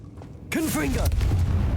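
A Confringo blasting spell fired in the game Hogwarts Legacy: a sudden loud burst with swooping, whistling tones, followed by a sustained low rumbling boom.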